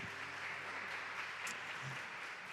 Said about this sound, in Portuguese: Eu queria que você desse uma salva de palmas para Jesus mais forte.